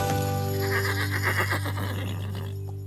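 A horse neighs in a long, loud, quavering whinny close by that fades out at the end, with steady low background hum beneath.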